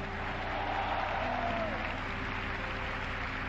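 A church congregation claps together during a Spanish-language sermon, a soft, distant, even patter of applause lasting a few seconds.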